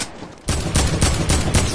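Loud video-game gunfire, probably a pump shotgun, with several sharp blasts roughly every quarter second after a brief quieter lead-in, up close and with no talk.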